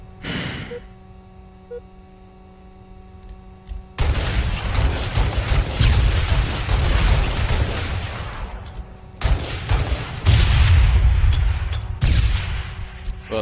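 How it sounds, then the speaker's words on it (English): Pistol gunfire in a 1v1 video game shooter match: a quiet start with faint tones, then from about four seconds dense bursts of loud rapid shots, pausing briefly before more volleys near the end. "Luckside's using a freaking pistol"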